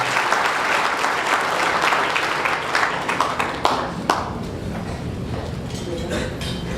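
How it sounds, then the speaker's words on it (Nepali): Loud, dense applause from a wedding congregation welcoming the senior pastor to the stage, a sustained close clatter of many hands that eases slightly toward the end. "उहाँलाई हामी जोरदार तालीले हामी स्वागत गर्दछौँ"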